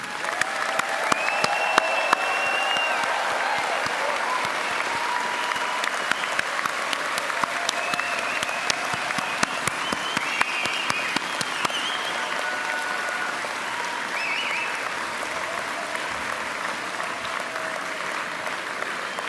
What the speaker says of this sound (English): Please join with me, everybody, to offer them another round of applause.